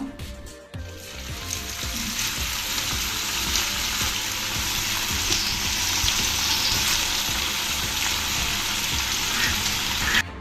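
Okra pieces, coated like bhaji fritters, frying in hot oil: a steady, loud, dense sizzle with crackling bubbles that holds from start to finish, with no talk.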